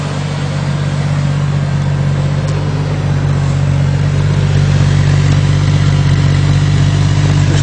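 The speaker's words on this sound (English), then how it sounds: "I'm going to walk around and I'm going to show you so you can hear the exhaust." Jeep straight-six engine fitted with an aftermarket fuel system idles steadily with its exhaust running, a constant low rumble held close and even for the whole stretch with no sputtering or backfires.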